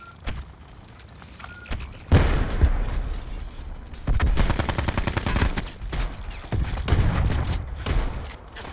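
A landmine explosion in a video game lands among heavy rattling gunfire, with several loud booming bursts and rapid shot volleys close by.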